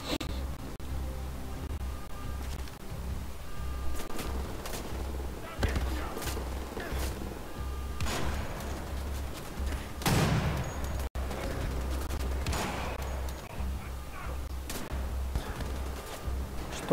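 Gunfire in Wolfenstein: The Old Blood comes in repeated sharp bursts and scattered shots, loud against a dense combat soundscape, with one especially strong blast near the middle.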